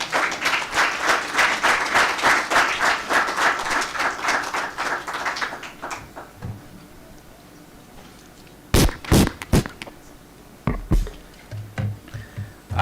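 An audience at the MindFest 2021 event breaks into a full burst of applause that lasts about six seconds and then fades out. After a quiet pause come a few sharp knocks and thumps.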